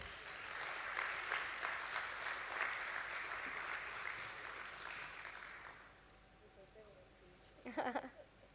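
Audience applause at a stock exchange listing ceremony for Borosil Scientific Ltd at BSE, a steady round of many hands clapping that fades after several seconds, followed by a brief burst of sound near the end.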